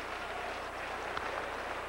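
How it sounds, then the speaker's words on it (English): Large crowd of over 40,000 at a Braves at Giants baseball game clapping steadily, a diffuse and even wash of far-off applause across the ballpark with no break. "Now they start to clap."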